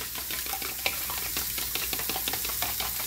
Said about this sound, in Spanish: Vamos a batir.